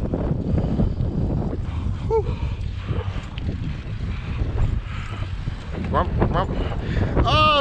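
Wind buffeting the microphone outdoors during a bike ride, a constant loud low rumble throughout, with someone talking over it and a few short squeaks near the end.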